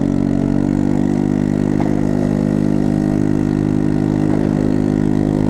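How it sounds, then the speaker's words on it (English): Motorcycle engine and exhaust running steadily at close range, a continuous loud low drone with a steady pitch and no speech over it. "we've got to make do with the sound of the engine, the exhaust, for the meantime."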